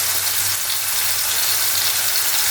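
Small mandeli fish sauté in a pan, salted for an Agri Koli style fry, giving off a loud, dense, unbroken sizzle that stays even and close throughout.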